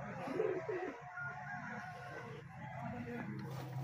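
Pigeons coo softly in the background while people talk nearby, the birds' low calls rising and fading under the voices.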